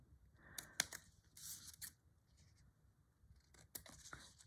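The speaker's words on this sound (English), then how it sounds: "Cut the corners off everything." Scissors snip the corners off sheets from a 6x6 scrapbook paper pad. A few crisp, close cuts come in short clusters with quiet pauses between them, soft overall and with no speech.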